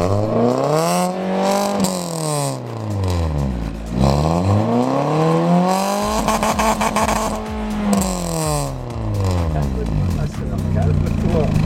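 A Peugeot 206 fitted with a full Inox Ragazzon stainless exhaust line revs up and down several times, each rev a loud, close swell and fall, with voices talking over the engine.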